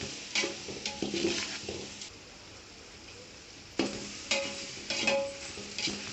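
Eggplant and salt fish curry stirred in a pan, with bursts of scraping and clattering from the spoon over a soft sizzle, a quiet pause in the middle, then more vigorous stirring, and no speech.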